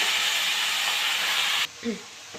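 Amaranth leaves dropped into hot tempering in a pan give a loud, steady, hissing sizzle for about a second and a half, which then cuts off abruptly to near quiet with a faint brief sound after.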